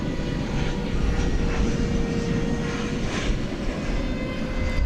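An airliner making a go-around near DFW Airport after an approach to runway 13 right, its engines a steady, broad roar that holds loud and continuous throughout with no talk.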